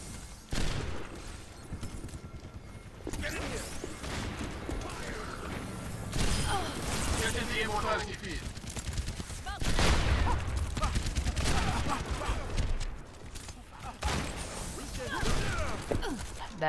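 Rapid automatic gunfire from Baptiste's weapon in the video game Overwatch, loud and dense in repeated bursts, mixed with game effects and a player talking over it.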